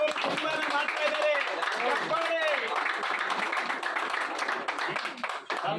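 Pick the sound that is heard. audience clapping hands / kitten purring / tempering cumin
audience clapping hands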